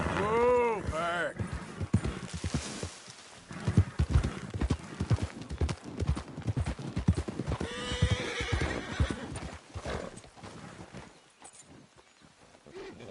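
A horse in a video game gallops and neighs: rapid clip-clop hoofbeats run throughout, with loud whinnies near the start and again in the middle, and hooves fade toward the end.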